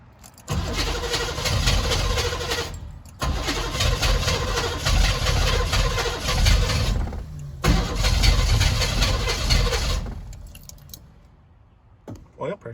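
A truck engine cranks in three long whirring attempts separated by short pauses, never catching, with a possible fuel shortage; the sound is loud and close.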